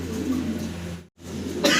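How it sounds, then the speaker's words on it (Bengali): A pair of racer pigeons give soft, low cooing calls close by, a brief murmur broken by a short gap before resuming. "অসাধারণ সুন্দর এক জোড়া রেসার কবুতর"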